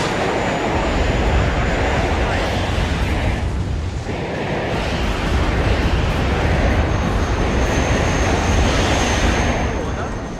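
A military plane's engines roar loud and steady as it aborts its landing on a Cold War battlefield, with rumbling explosions mixed into the continuous drone.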